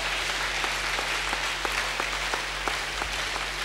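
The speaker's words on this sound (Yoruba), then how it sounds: "Put your hands together for the Lord." A church congregation applauds during a Sunday service, a steady wash of clapping from many hands with a few sharper claps standing out, continuous and moderately loud throughout.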